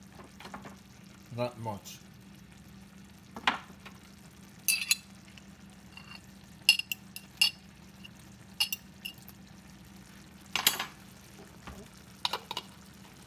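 Tomatoes hit a hot frying pan and sizzle softly while a utensil scrapes and clinks in scattered short bursts during stirring, with a quiet voice speaking now and then.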